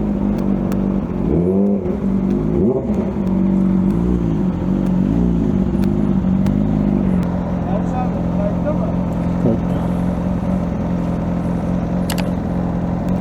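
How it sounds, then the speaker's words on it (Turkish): A motorcycle exhaust rumbles steadily up close, with a few quick revs early on that rise and fall before it settles into a constant drone. "Bu egzoz sesi bundan geliyor işte."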